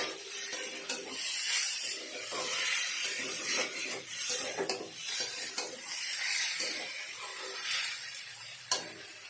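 Boiled cabbage and potato sautéing in a pan, a continuous close sizzle and hiss with scraping stirring strokes throughout, no voices.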